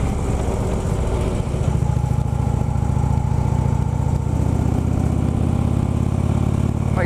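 A motorcycle engine drones steadily while being ridden on the road, loud and close throughout, with a continuous low rumble and constant wind noise and no speech.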